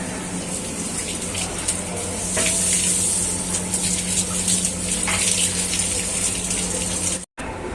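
Water gushing steadily from a hand-washing tap at a temple, a loud continuous splashing stream with a brief cut near the end.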